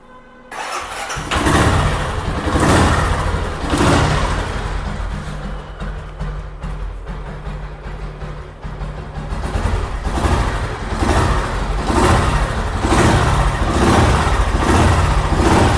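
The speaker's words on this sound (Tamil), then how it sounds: "இது வந்து ஒரு செல்ஃப் ஸ்டார்ட் வெஹிக்கிள் பாயிண்ட் டைப்பில். நான் ஸ்டார்ட் பண்ணி காமிக்கிறேன் பாருங்கள்." A 1990s self-start, points-type ignition vehicle engine cranks and catches, then idles and is revved in repeated loud, close bursts with no talking.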